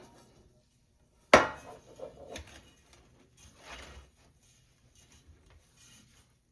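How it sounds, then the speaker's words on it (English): A cooking pot set down and handled in a home kitchen, one sharp metallic clank followed by a few softer knocks and shuffles, close and otherwise quiet. "I found the pot. I put a little bit olive oil."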